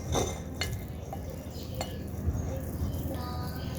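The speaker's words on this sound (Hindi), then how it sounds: "जी तो डिश आउट करेंगे चावलों को, पुलाव को।" A spoon scrapes and clinks against a pot while chicken yakhni pulao rice is dished out. Sharp metallic taps stand out over a soft, steady background of scraping and rustling.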